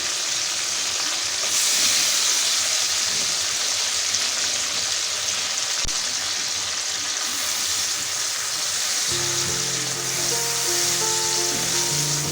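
Chicken sizzles steadily in a hot pan while being stir-fried for Chinese chicken vegetable fried rice: a dense, even hiss with light scraping and stirring, and a faint tonal hum joining in near the end.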